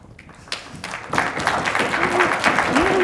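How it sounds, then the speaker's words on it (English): A live audience breaks into applause, quiet at first and then swelling into loud sustained clapping from many hands, with a voice speaking briefly over it near the end. "Did you cue everyone to applaud"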